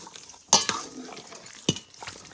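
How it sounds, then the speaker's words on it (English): Chicken with ginger and rosemary is stirred and mixed in a pan, with two sharp utensil clinks against the pan amid soft scraping and a light sizzle, close by. "And we're gonna mix this up. So mix, mix, mix."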